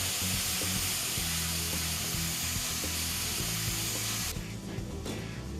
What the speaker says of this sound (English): we're just going to deglaze that with a little bit of red wine and some lovely beef stock